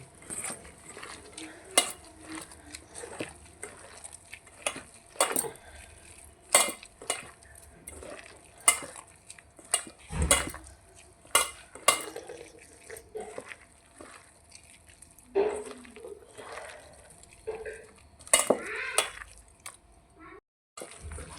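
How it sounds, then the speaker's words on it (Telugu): A spoon stirs chopped onion and green chili in a pan, with sharp scrapes and clinks at an uneven rhythm over a quiet background and faint voices. "పచ్చిమిరపకాయ వేసేసుకున్నాం ఉల్లిగడ్డ మంచి కలిపేసుకుందాం మనం"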